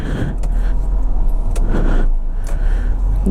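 A car's engine runs close by with a steady low rumble, broken by a few clicks and knocks from inside the cabin.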